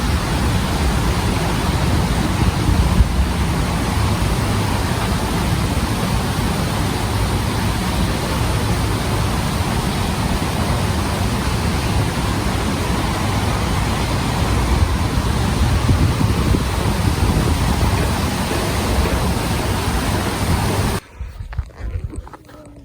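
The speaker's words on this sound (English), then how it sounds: "there's a waterfall here." A large waterfall in the Goat Rocks Wilderness of Washington rushes as a loud, steady broadband roar with no letup, cutting off abruptly near the end.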